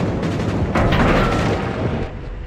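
A heavy carrier launches torpedoes in a naval battle video game, with a dense, loud rumble of booming blasts and gunfire that swells near the one-second mark and then eases, continuing without a break and with no talk.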